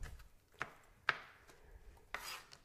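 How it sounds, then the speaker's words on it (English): A knife chops a diced tomato on a wooden board, three separate sharp cuts at uneven intervals, close and fairly quiet, with no talking. "So it's just chopping it all up."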